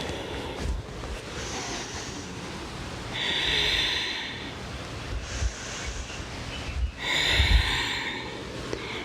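Heavy, forceful breathing during an exercise workout, with loud rushing inhales and exhales repeating in slow cycles, close to the microphone, with no talking.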